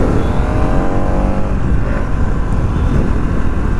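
A loud, close Pulsar NS200 BS7 motorcycle engine, on a bike repaired after an accident, revs and rumbles steadily, its low growl rising slightly, with no talking.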